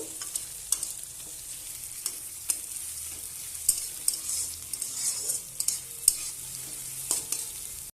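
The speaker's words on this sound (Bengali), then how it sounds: "এবার আমি পেঁয়াজটাকে ভালোভাবে ভেজে নেব।" Onions frying and being stirred in a pan for a fish and potato curry, a steady soft sizzle with scattered scraping stirs and clicks, close and moderately quiet, no voices.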